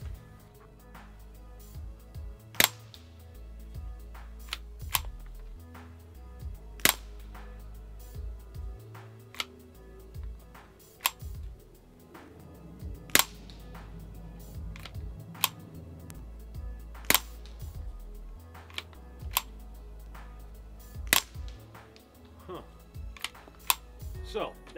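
Suppressed Ruger 10/22 Takedown rifle with a Tactical Solutions SBX barrel firing a string of sharp, spaced single shots at a range, each a brief crack over low steady background noise.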